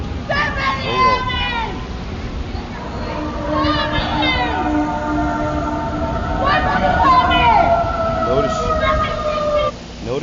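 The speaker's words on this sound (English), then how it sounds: "Notice you hear the sirens in the back of the police or the ambulance" Distant sirens wail and warble in the background, rising and falling over steady rumbling noise, with occasional voices underneath.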